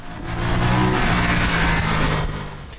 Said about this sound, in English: What I love, exhaust note.